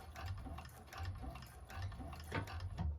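A 1341 cylinder arm sewing machine stitches down a bag seam, a faint, rapid mechanical ticking and whirring that pulses steadily in bursts, heard close and alone.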